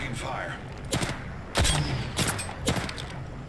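Bursts of automatic gunfire in the Apex Legends Season 2 battle royale shooter, loud and close, with several sharp volleys spaced across a few seconds over a steady background bed.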